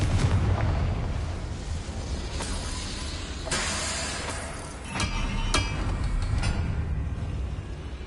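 The Confringo fire spell in the Hogwarts Legacy video game detonates in a series of booming blasts and crackling bursts over a dense, rumbling game soundscape.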